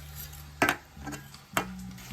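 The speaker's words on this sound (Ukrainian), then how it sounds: "І тепер це калапуцяємо гарно." A utensil stirs onions and dried garlic in a pan, making a few scraping clinks spaced about a second apart over a constant low hum.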